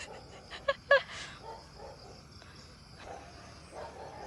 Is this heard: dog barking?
yes